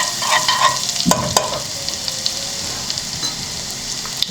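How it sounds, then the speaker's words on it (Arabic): Garlic frying in a pan over medium heat with vegetable food, a steady close sizzle carrying on throughout, broken by a few sharp clinks of a utensil against the pan near the start. "غنشدو واحد سنينه ديال الثومه، غادي نقليها"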